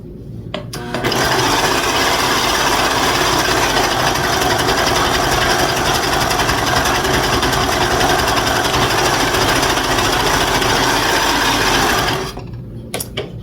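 A sewing machine stitches a long seam along the edge of a vintage quilt travel bag for a flat iron, running steadily and loudly for about eleven seconds with a fast mechanical ratcheting hum, then stopping.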